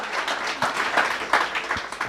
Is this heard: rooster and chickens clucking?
no